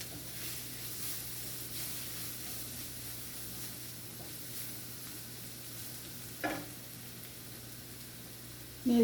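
Prawns roasting with garam masala in a pan for chemeen roast, a steady close sizzle with soft stirring scrapes and an occasional louder clatter, no talking.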